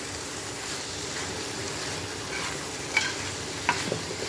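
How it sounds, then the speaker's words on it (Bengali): Mixed vegetables frying in a pan make a steady sizzle, with a couple of sharp spatula scrapes and clinks near the end. "সেই জন্য একটু ভাজা ভাজা সবজি বানাচ্ছি"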